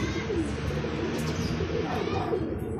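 Pigeons cooing at a loft as birds arrive home from a training flight, a steady close murmur of coos with faint chirps over constant background noise.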